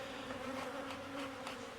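Honey bees buzzing steadily inside a queen cell builder hive, a dense, continuous close hum with a strong drone tone throughout and no speech.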